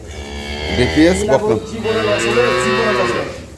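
An improved-breed dairy cow on an agro farm gives one loud, drawn-out moo close by, rising and then falling over a few seconds.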